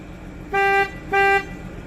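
Two short honks of a 1995 Plymouth Voyager's horn, evenly spaced and fairly close, with quiet background noise between them.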